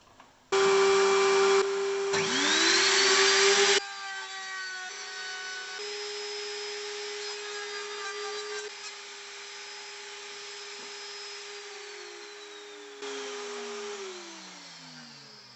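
A Lumberjack RT1500 router table cuts pine planks with dust extraction running. A loud, rough cutting burst lasts a few seconds and settles into a steady high motor whine, which winds down in pitch near the end.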